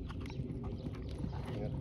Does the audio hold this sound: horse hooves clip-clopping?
yes